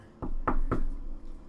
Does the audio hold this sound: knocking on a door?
yes